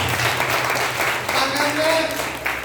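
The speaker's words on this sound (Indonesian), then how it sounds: "Berikan tepuk tangan untuk Tuhan" A congregation at a praise and worship church service applauds, a loud, dense wash of clapping with voices mixed in over the top.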